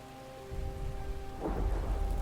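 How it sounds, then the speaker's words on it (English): Rain and thunder in a video game set amid pirate battles and flying warships above the clouds, steady rainfall hiss with a low rumble of thunder that swells midway, alone with no talking. "look at the wind effects and the rain effects"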